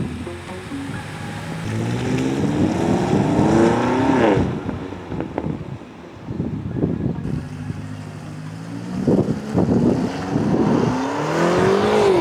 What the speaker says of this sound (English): Now that we've put the Quicksilver exhaust on it, this car sounds absolutely amazing.